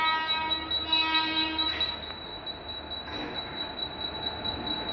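A Mumbai local train pulls into Chhatrapati Shivaji Maharaj Terminus at night with a high, sustained metallic wheel squeal over a low rolling rumble, plus short horn-like tones early on.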